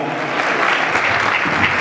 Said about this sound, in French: On applaudit pour le pays.